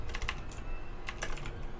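Rapid, uneven typing on a computer keyboard during a livestreamed ReGen Invitational match broadcast, with close clicky keystrokes in bursts over a steady low room hum and no talking.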